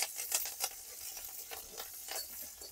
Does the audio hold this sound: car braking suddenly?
no